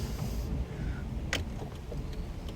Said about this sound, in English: I do love the sound of this car.